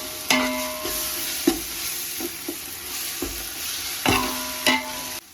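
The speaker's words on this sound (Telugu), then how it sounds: "అల్లం వెల్లుల్లి పేస్ట్ వేసిన వెంటనే మనం కొంచెం హై ఫ్లేమ్ పెట్టుకోవాలి" Ginger garlic paste frying on high flame in a pan for mutton dum biryani, a steady sizzle broken by several sharp scraping stirs of a spoon against the pan, near and clear with no talk.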